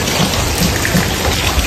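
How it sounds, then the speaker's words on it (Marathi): Steady rain falling outdoors during a monsoon day in the Konkan, a dense continuous hiss of drops, loud and close throughout with no voices. "हा पाऊस पडतोय ना. कसा पाऊस पडतोय."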